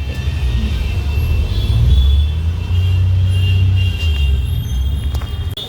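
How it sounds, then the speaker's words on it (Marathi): Mumbai road traffic from inside a moving bus: a steady, loud low engine and road rumble with a few faint horn-like tones above it. "पण लागले ट्रॅफिक"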